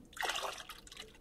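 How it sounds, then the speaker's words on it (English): Liquid waste decomposer solution poured into a bucket of water with mustard cake, a close splashing, trickling pour that runs for about a second and tapers toward the end. "Now I'll add 1 liter of my waste decomposer solution to it."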